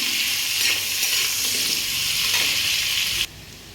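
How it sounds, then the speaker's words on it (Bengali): Raw jackfruit pieces stirred and lightly frying in oil in a kadai, a loud, dense sizzle with scraping stirring strokes, close by, cutting off abruptly into quieter background near the end. "দেখো এঁচড়টা ভাজা হয়ে গেছে"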